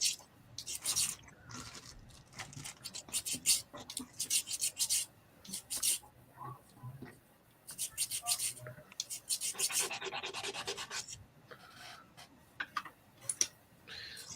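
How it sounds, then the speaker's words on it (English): Sandpaper rubs back and forth along the edges of doll's house panels in short, close, scratchy strokes. The rasping comes in uneven bursts with brief pauses, and some soft ticking handling noises fall between strokes. "use sandpaper to tidy up the edges of the panels"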